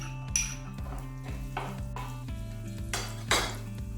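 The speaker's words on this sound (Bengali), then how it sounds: "এবার আমি রসুন কুচি আর লঙ্কা কুচিগুলো দিয়ে দিলাম।" Chopped garlic and chili frying in a little oil in a pan for capsicum onion fried rice, a quiet sizzle broken by metallic scrapes and clinks of a spatula against the pan, close, with no talking.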